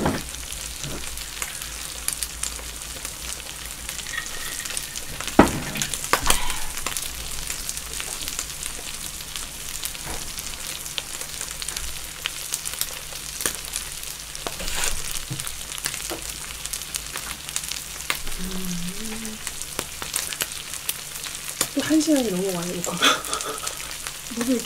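Chicken sizzles and crackles steadily in a hot pan over high heat, with occasional clinks of a utensil and faint voices in the background.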